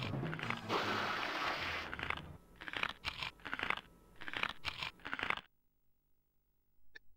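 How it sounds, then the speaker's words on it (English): Crunching noises in the video game Dino Crisis come as a run of short, loud bursts over a dense rumble of game sound, then stop abruptly into near silence broken by one faint tick. "Pleasant crunching noises."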